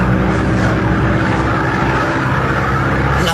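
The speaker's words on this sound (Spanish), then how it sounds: "La avioneta descendió hasta volar a la altura regular de acuerdo a su capacidad." A light aircraft engine drones steadily and loudly through a storm as the small plane descends, a constant dense rumble filling the whole scene without a break, with no voices over it.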